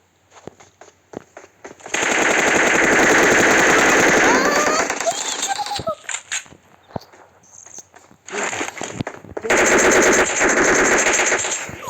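Sustained automatic rifle fire in the battle-royale shooter PUBG Mobile rattles in long, loud bursts with short gaps, while players talk excitedly over the shooting.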